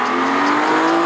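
A BMW G87 M2's engine and stock OEM exhaust give a loud, steady, droning note held close for about a second, with no voices.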